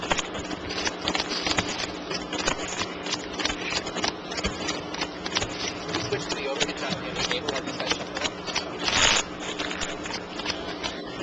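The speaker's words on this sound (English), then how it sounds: "let's look in on table 1 while these guys shuffle up for game 5" Players at a tournament card table shuffle the deck between games, making rapid, repeated riffling and clicking bursts. A faint murmur of voices sits in the background.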